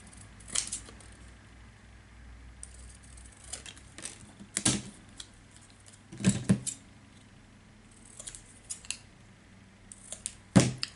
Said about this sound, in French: Donc je vais venir couper mon hello.